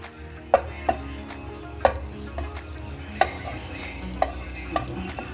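Garlic fries in hot oil in a pan, a soft steady sizzle broken by sharp metallic clinks of a spoon stirring against the pan every second or so.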